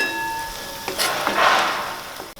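A masala of coriander powder and red chili powder sautés in a pan for Maharashtrian village-style chicken, making a soft sizzle with a few scraping stirs and a brief swell of frying hiss.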